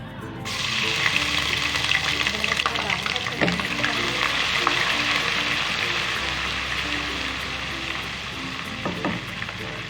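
Ginger garlic paste and garam masala fry in hot oil for a kofta curry, giving a loud, continuous close-up sizzle and crackle with stirring scrapes, while a voice talks over it.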